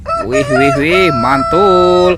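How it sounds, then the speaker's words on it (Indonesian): A toy rooster crows one long, wavering cock-a-doodle-doo, loud and close, while a voice exclaims over it. "Dan ada ayam berkokok."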